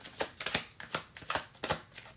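A tarot deck holding only the major arcana is shuffled by hand in a quick series of crisp riffling flutters and card slaps, close and fairly quiet, with no talking.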